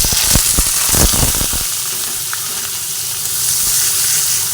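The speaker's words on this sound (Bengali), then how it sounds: "পেঁয়াজটা ভালোভাবে ভেজে নিচ্ছি" Chopped onions frying in hot oil with a bay leaf in a pan for dal fry, giving a loud, steady sizzle with a few sharp crackles and stirring clatters early on.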